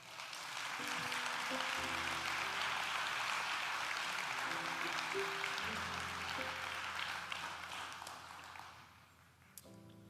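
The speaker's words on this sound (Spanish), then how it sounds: "Le da un aplauso a él, por favor." A church congregation applauds steadily and fairly loudly for about nine seconds over soft sustained keyboard chords during a sermon, and the clapping thins out at the end.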